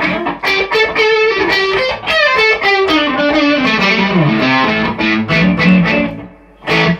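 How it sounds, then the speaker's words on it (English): A Telecaster-style electric guitar played through an OCD overdrive pedal with the drive just past halfway, ringing out loud gritty chords and single notes in a continuous phrase that drops out briefly near the end. "I've rolled back the drive to just above halfway on the OCD, and we get a little something sounding like this"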